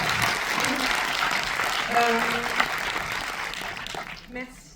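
Audience applause at a movie premiere for a film team, sustained clapping from a crowd in a hall, fading toward the end, with a few voices and a speaker briefly heard over it.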